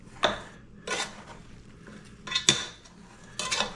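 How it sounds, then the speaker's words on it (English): Seasoned pork neck bones and potatoes are tossed together in a pan or bowl, giving four separate bursts of clattering and scraping with quiet pauses between them. "Now you want to get in there and kind of mix everything together best you can."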